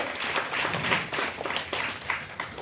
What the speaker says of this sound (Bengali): আমাদের company national trainer mister চেতা Chawla স্যারের জন্য জোরদার তালি হোক